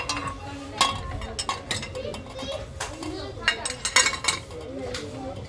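Nonstick kadai pans handled in an electronics store, giving repeated metallic clanks and clinks in irregular bursts, with voices and someone speaking nearby.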